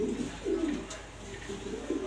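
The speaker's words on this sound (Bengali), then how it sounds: "এটা হচ্ছে গ্রিজেল নিউ অর্ডার মাদি কবুতর, দেখার মতো কোয়ালিটি" Soft, low cooing from a grizzle New Order female pigeon, several rolling coos in a row, fairly close, over a quiet background hum.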